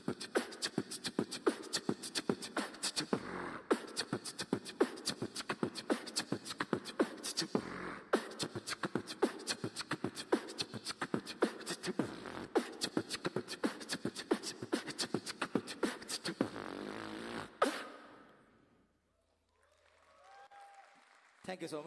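A performer beatboxes at a housing pre-launch event, imitating bass drum, snare and hi-hat with the mouth through a sound system. The beat is steady, fast and punchy for about seventeen seconds, then cuts to near silence.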